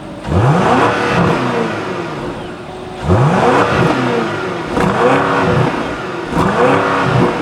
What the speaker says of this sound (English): Let's go ahead and take a listen to the exhaust.